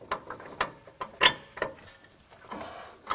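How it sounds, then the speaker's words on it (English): Lower shock bolt being worked into the mount on a Lexus GX suspension during a kit install, with a string of sharp metallic clicks, taps and ratcheting knocks, close by and irregular, with no talk. "Now we just got to get that lower shock bolt put in."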